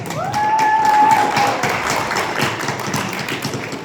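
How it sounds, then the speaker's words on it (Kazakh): A studio audience applauds a guest arriving on a Kazakh comedy stage show, a dense, steady wash of clapping that swells early and holds for about four seconds, with a brief whistle-like tone near the start. "Доғыл шапалақтарыңыз"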